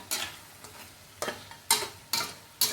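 Pork intestines deep-frying in a pan of hot oil and stirred without pause: a steady bubbling sizzle broken by about five sharp scraping strokes of the utensil, close and moderately loud, with no talking.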